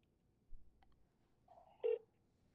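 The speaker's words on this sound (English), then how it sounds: "Let's see if I can get him on the phone." A phone call to a suburban Chicago city council office is placed, with a couple of quiet keypad dialing tones, the last one brief and clearer, in an otherwise near-silent line.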